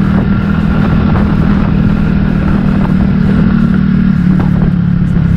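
An Italika 250z 2021 motorcycle rides over an unpaved street, its engine droning steadily and loudly close by, with a constant low hum and faint rattling from the rough surface.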